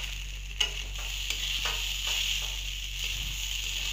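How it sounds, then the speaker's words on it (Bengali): Rice fried with chilli powder and spices in a pan for a fish head curry, a faint continuous sizzle with a few soft scraping stirs, muffled under steady background noise, close by and without talk. "এভাবে ভালো করে মশলার সাথে কষিয়ে নিতে হবে চালটা"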